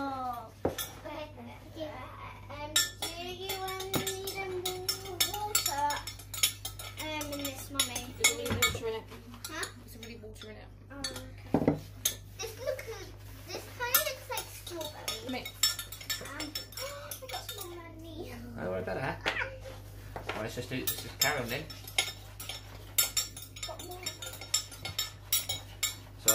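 Metal utensils scrape and clink steadily against a bowl as a homemade playdough mixture is stirred, a busy rattling texture running throughout, with a child and an adult talking over it.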